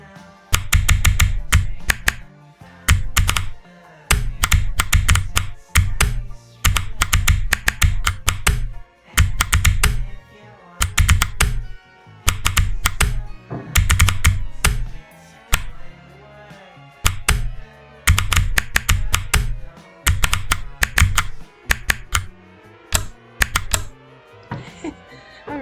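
Typing on a custom mechanical keyboard with Kala Box White switches, loud, close clusters of rapid clicky keystrokes in bursts separated by brief pauses.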